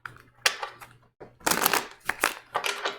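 Tarot cards are shuffled in quick bursts of riffling and flicking, fairly close and soft, with a short pause near the middle.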